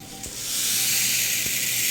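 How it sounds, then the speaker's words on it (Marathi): Milk heating in a pot on the stove, a soft steady hiss and bubbling that swells after the first half second and holds at a low level, close and alone without talk. "दूध उकळत आहे तोपर्यंत आपण दुसरी तयारी करून घेऊया।"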